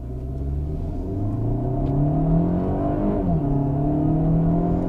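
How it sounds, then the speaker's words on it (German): A 2021 DS 4 Cross PureTech petrol car accelerates hard towards 100 km/h, heard from inside as a steady engine rumble that climbs in pitch, drops at a late gear change and then rises again. "Und jetzt beschleunigen wir mal gemeinsam auf 100"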